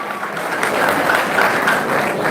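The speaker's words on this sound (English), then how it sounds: "Please give him a round of applause." A student audience at the University of Abuja bursts into steady, sustained applause, a dense wash of many hands clapping at fairly close range that holds evenly throughout.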